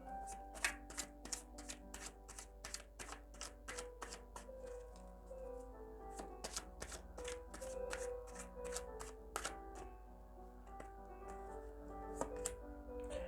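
A deck of tarot cards is shuffled by hand in a long run of quick, crisp riffling snaps and soft slaps, close and fairly quiet, over a faint steady hum and light background music.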